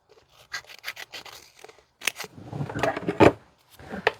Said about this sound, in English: Oh, I've got my scissors here.